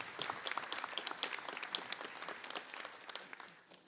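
Audience at a town meeting applauds, a dense patter of many hands clapping that holds steady and then slowly fades out toward the end.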